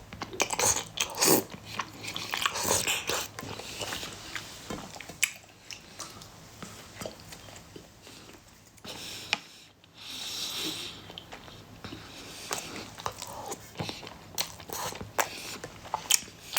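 Someone eats sesame-paste potato noodles up close, with continuous wet chewing, slurping and soft crunchy bites in an irregular rhythm, punctuated by occasional sniffs and breaths.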